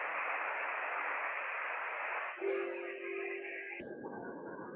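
Broadband radio static hiss under new calibration settings, steady and fairly loud for a couple of seconds, then shifting to a thinner hiss with a faint steady tone before dropping to a quieter, narrower noise.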